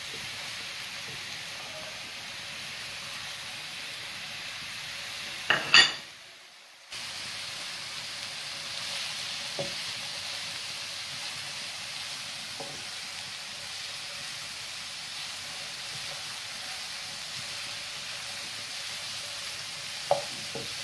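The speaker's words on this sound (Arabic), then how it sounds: "نخليهم يتشحروا واحد شويه" Mushrooms sautéing in a pan, a steady soft sizzle with occasional stirring scrapes and light clacks, broken by a brief gap of near-silence midway before the frying hiss resumes.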